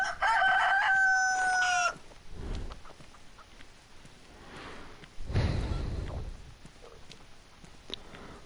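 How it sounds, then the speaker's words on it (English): A rooster crows in the DayZ video game, one loud, clear cock-a-doodle-doo in the opening two seconds, followed by quieter rustling and ambient game noise. "Cock-a-doodle-doo to you too."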